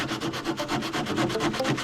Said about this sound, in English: I'm just going to sand this just because of the curve that is in the profile